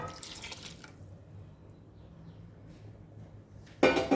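Saffron (kesar) water poured over layered chicken biryani topped with mint leaves and fried onions: a faint, soft trickle and drip that ends in a short, louder splash.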